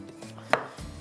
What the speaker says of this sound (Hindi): हरी मिर्चें कट करके रख लेती हूँ